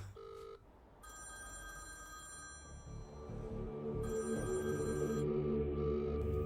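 A telephone bell rings in two bursts with a pause between, clear and fairly close, over a low rumbling background.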